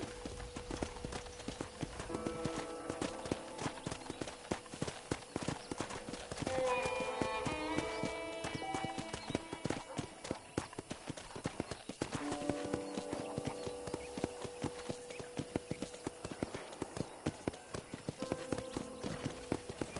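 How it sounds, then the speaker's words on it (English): Horse hoofbeats clip-clop steadily as a ride gets underway on a ranch in Red Dead Redemption, the rhythm running nearly throughout with a brief neigh-like tone midway and game music and ambience layered beneath. "let's see if you can still ride a horse"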